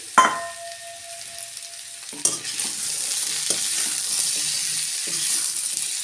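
Cauliflower, pumpkin, carrot, beans, tomato and peas are stirred in a frying pan for khichuri, with a sharp clank at the start, then steady sizzling broken by repeated scraping strokes, close and fairly loud, with no talk.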